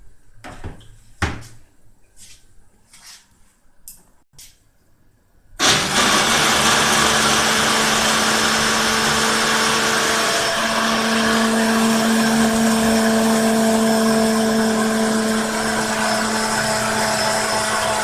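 A kitchen blender grinding groundnut paste with water for a cassava leaf stew: a few sharp knocks and clicks first, then the motor starts abruptly and runs as a loud, steady high whine until the end.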